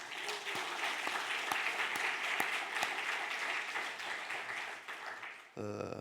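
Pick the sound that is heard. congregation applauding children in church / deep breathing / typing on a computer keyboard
congregation applauding children in church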